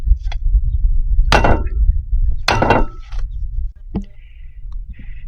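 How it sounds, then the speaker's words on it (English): A hammer strikes a wooden board wedged between a tire and its rim to break the bead, two loud sharp blows followed by fainter knocks and a metallic clink. "Just going to hit the other end with a hammer."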